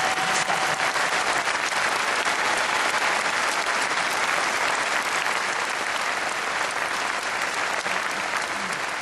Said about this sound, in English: Please give Dwayne a round of applause for his effort